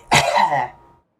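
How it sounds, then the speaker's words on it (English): A single rough throat clear, close and fairly loud, lasting about a second and rasping toward a cough before fading into silence. "it feels like you need to cough, but you just sort of can't cough"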